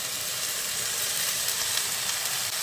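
Drumstick flowers stirred with potato and eggplant in a hot pan give a steady, close sizzle of frying that runs evenly throughout, with no voices.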